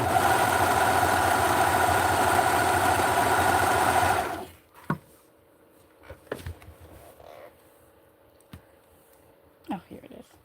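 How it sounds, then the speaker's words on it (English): A serger stitches vintage 1960s barkcloth with a loud, continuous mechanical whir. It stops abruptly after about four seconds, leaving a quiet room broken by a few soft handling clicks and thumps. "So I'm going to put the serger on the back of this one."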